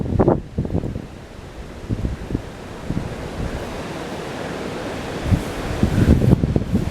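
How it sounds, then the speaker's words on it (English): Gusty wind blows outdoors around a roof-mounted wind turbine on a house, roaring against the microphone in uneven surges that rise and fall, with low buffeting thumps and no voices. "And it's windy out,"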